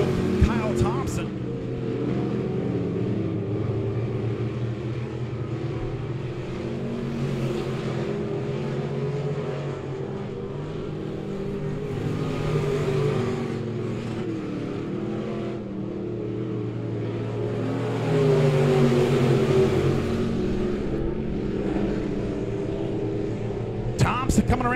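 Race cars lapping Monett Raceway during an all-class Mystery Night race, their engines a continuous loud roar that swells as they pass, under a steady announcer's commentary.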